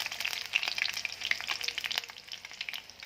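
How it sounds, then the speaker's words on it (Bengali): Garlic fries in hot oil in a home kitchen, a steady close sizzle with crackling pops and the scrape of stirring, no voices over it. "রসুনগুলো দিই, লাল হয়ে যাবে, একটু ব্রাউন হয়ে গেলে"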